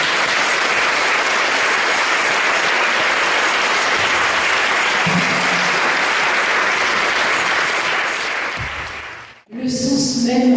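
A church congregation applauds together, a loud, dense, sustained clapping that carries on for several seconds before fading out and giving way to a few quieter sounds near the end.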